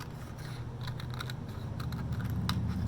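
Scissors snip through a scratch piece of paper in a few quick, close, light cuts with faint crisp clicks over a low room hum.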